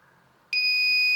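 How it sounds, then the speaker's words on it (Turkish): A piercing electronic buzzer in an infrared obstacle-sensor circuit switches on abruptly partway through when a relay triggers, holding a steady, loud, high-pitched tone until the end, after a quiet start. "röle tetik veriyor ve bu sayede buzzer'ımızın çalışmasını sağlıyor"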